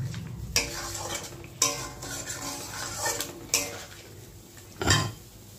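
A spoon stirs and sautés a vegetarian offering for Kali puja in a cooking pot, with repeated metallic clanks and scrapes against the pot over a low background hiss.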